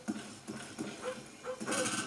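Attack dogs bark in Call of Duty: Black Ops on PS3, a quick run of rhythmic, somewhat muffled barks over faint game noise.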